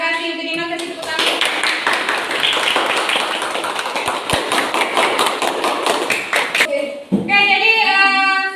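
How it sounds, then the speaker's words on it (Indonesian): Students clapping in a classroom for a classmate, a short burst of brisk close-up hand claps between stretches of someone talking. "Kasih tepuk tangan."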